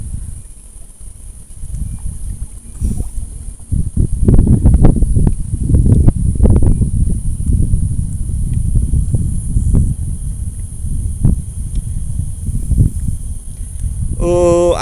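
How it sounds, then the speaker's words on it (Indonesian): Strong wind gusting across an open fishing spot beside water where tilapia are being fished: loud, continuous low buffeting rumble on the microphone that swells from about four seconds onward and keeps surging in uneven gusts. "Mengapa anginnya kencang"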